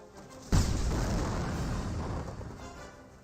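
An incendiary mortar shell lands in the World War II strategy game Company of Heroes, a sudden heavy boom followed by a long rumbling burn-off that fades over about three seconds.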